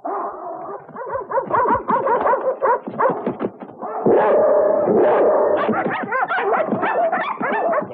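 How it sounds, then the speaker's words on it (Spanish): Several dogs in a 1973 film bark, yip and whimper in a busy, overlapping clamour, close and loud, with excited bursts that swell into a denser chorus toward the end. "hagamos entrar en escena los perros"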